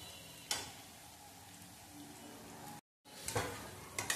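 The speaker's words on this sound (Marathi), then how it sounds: "तर बघा तेलामध्ये आता परतून झाली." Onions and garlic sauté in oil in a pan, a faint steady sizzle with a couple of sharper stirring clatters, broken briefly by a moment of silence.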